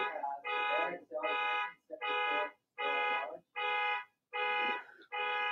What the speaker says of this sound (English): I can't even hear anything because of this idiot's car alarm out here.